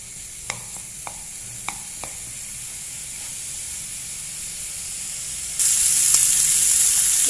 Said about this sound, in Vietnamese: Cho chảo lên bếp và các bạn rán vàng cái phần mỡ này lên nhé.